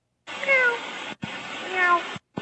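Airline pilots imitate cat meows over an aviation radio frequency, heard as two band-limited radio transmissions with drawn-out, wavering meow calls, each ending in an abrupt squelch click.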